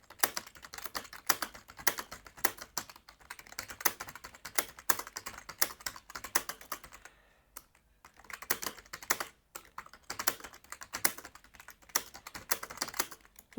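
Rapid typing on a computer keyboard during an online typing test of single words, a dense, continuous patter of crisp key clicks with a brief pause midway, close and alone.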